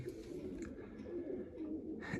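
Pigeons coo in a loft, soft repeated low cooing calls that run continuously and sit close and fairly quiet, with no voices.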